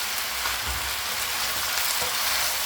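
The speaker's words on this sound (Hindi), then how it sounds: "ये देखें, अब हमारा चिकन जो है ना वो ब्राउन होना शुरू हो गया।" Chicken pieces browning in a hot pan for white karahi, a dense, steady sizzle and spit of oil throughout, close and continuous with no voices.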